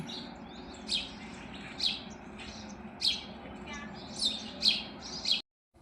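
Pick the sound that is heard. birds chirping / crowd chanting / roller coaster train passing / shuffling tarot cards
birds chirping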